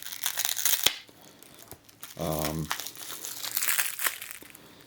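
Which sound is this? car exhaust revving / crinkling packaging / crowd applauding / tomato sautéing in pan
crinkling packaging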